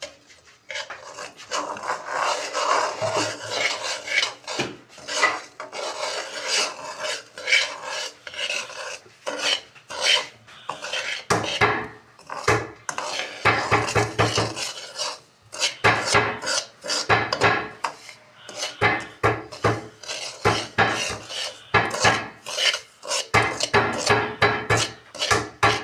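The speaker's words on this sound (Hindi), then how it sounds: "इसे चलाते रहना है ताकि ये लग नहीं जाए।" Semolina halwa with dry fruits and nuts scraped and stirred in a pan, a steady rasping, scratching spoon rhythm with short pauses, close and fairly loud, no talking.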